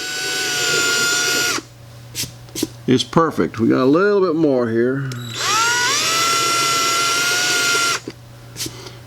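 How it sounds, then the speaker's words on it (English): A variable speed power drill whines steadily up close while boring into gelcoat, stops while someone speaks briefly, then spins up again and runs at a steady pitch. "I guess a variable speed drill"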